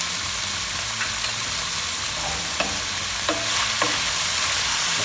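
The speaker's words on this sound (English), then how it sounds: "Brown it for another minute and then take it off." Beef sizzles steadily in a hot pan with pepper, rosemary and thyme while a utensil stirs it, giving a few light scraping knocks over the constant frying hiss.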